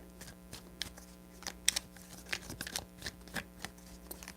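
Tarot cards are shuffled in a series of quick papery riffles and soft card clicks, close and moderately quiet, with no talking.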